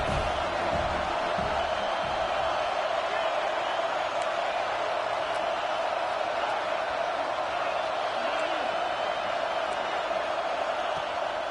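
Steady, loud roar of a football stadium crowd bearing down on the opposing offense, a dense continuous wash of noise throughout with no clear speech.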